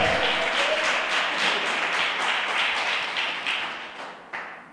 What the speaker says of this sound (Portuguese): Vocês podem aplaudir o nome do Senhor.